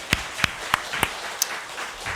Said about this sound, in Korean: 자, 환영의 박수하도록 하겠습니다.